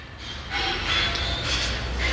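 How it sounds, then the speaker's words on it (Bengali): Steady rumble and rush of a Riyadh Red Line metro train heard from inside a moving car, a continuous close roar that swells slightly after the first half second, with no talk. "এখন আমরা লাল মেট্রো রেলে যাচ্ছি"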